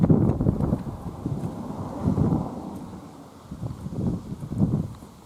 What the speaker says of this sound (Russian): Ох, на улице очень сильный ветер.